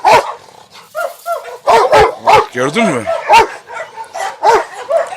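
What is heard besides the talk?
Rottweiler dogs growling and barking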